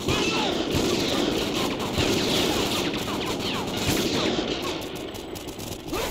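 Video game gunfire from Call of Duty Ghosts during a remote sniper breach, with loud, dense repeated shots and crashes running throughout and no clear gaps between them.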